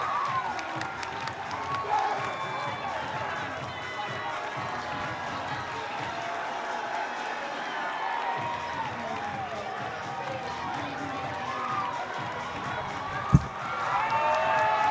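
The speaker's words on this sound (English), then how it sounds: "you're hearing it right now with this West Virginia crowd" A large, strongly pro-West Virginia crowd at a women's college basketball game against Duke, cheering and roaring a victory with sustained, loud, dense noise, scattered shouts and clapping, and a sharp bang near the end.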